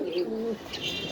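An A-class jet black breeding pigeon from a farm's master pair coos close by, a low rolling call followed by a softer trailing note.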